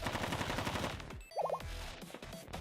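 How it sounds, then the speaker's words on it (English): Rapid bursts of gunfire in the video game Blue Archive, with a continuous rattling volley that breaks off briefly and then resumes amid other game sound effects. "We heard gunshots."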